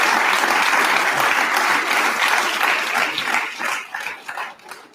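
Large crowd applauding and cheering loudly, a dense continuous roar of clapping that thins and fades toward the end.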